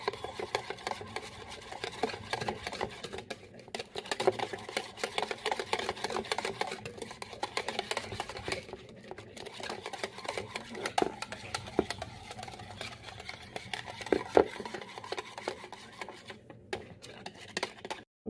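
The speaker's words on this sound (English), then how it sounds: "I'm going to whisk it together." A whisk beats cinnamon roll casserole mixture in a bowl, making fast, steady, rhythmic scraping and clattering that runs nearly without pause, close and moderately loud.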